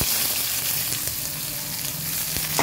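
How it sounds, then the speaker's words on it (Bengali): Sugar hits hot oil in a pan while a chicken curry is being made, producing a loud, dense, steady sizzle without talk. "তো তারপর তেলে একটু আর চিনি দিলাম,"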